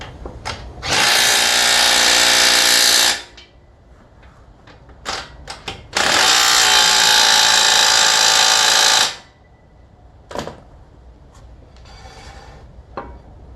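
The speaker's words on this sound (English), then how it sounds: "tighten down those 18 mils on the caliper bracket" A power tool, likely an impact gun, runs in two long loud bursts of about two and three seconds, tightening the 18 mm caliper bracket bolts on a crew cab dually Silverado truck hub, with quieter clanks and tool handling between bursts.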